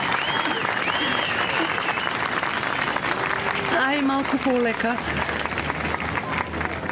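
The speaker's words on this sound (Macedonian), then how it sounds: "Ве молам за голем аплауз." Loud, steady audience applause fills a hall as the mayor's daughter is introduced at the opening of a traditional dance marathon, with voices talking over the clapping throughout.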